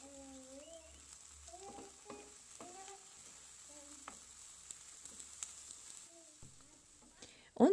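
Sauce fries and is stirred in a pan with paprika, fresh coriander and tomato sauce: a faint, steady low sizzle under soft background music, with light scraping taps and a louder clatter at the very end.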